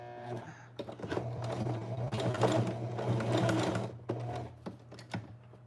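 Close, steady whir and rapid clatter of a sewing machine stitching through a thick denim jeans waistline, running in a few bursts with short pauses between them.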